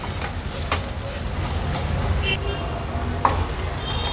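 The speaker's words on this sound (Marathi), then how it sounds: "ह्या मसाल्यांसोबतच आपल्याला परतून घ्यायचं आहे थोडं तेलावर" Ground spice paste sizzles and fries in oil in a pan for a crab curry, a steady close hiss with occasional stirring clatter, under a voice speaking.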